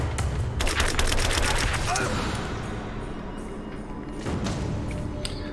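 Machine gun fire in the video game Rise of the Tomb Raider, a dense burst of rapid shots early on, then quieter scattered impacts with game ambience, and another short burst near the end.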